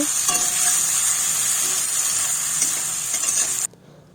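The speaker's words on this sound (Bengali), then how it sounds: "এই যে বেগুন টমেটোটাকে ভালো করে ভেজে নেব" Eggplant and tomato fry in a pan with spices, giving a loud, continuous hissing sizzle that cuts off abruptly near the end.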